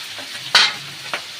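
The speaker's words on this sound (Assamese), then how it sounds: "বিলাহী পানী মৰালৈকে ভাজিম।" Tomatoes fried in spiced oil in a pan: a soft background sizzle broken by two sharp scrapes of a spoon stirring, one louder then a fainter one, close up.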